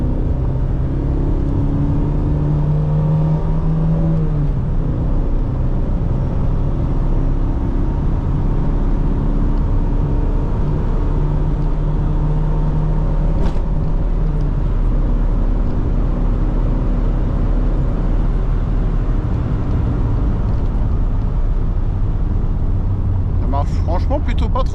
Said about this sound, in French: On sent que le moteur est un poil hésitant.